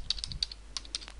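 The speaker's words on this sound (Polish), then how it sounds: "Wpisujemy adres internetowy" A web address is typed on a computer keyboard as a quick run of about a dozen light, close key clicks in an uneven rhythm.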